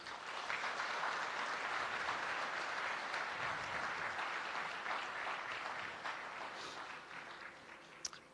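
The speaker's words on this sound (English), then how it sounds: "Let's give another big applause for them." A large summit audience gives sustained, even applause, a dense wash of many hands clapping that tapers slightly toward the end.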